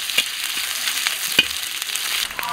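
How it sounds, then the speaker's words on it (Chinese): Fatty pork renders and sizzles in a dry wok with no oil added, a steady crackling fry with sharp pops and spits breaking through now and then, close and fairly loud, with no voices. "锅里不倒油，放点肥猪肉。"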